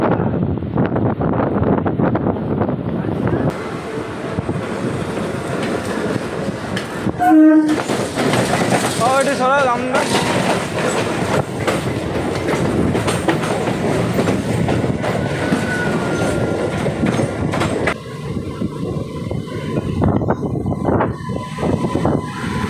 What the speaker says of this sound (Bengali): তো আমাদের ট্রেন এখন শিয়ালদা থেকে ছেড়ে দিয়েছে